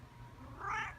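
A cat gives one short, soft meow near the end of a quiet second, fairly close, with faint ambient background and no talking.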